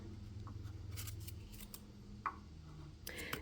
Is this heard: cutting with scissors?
yes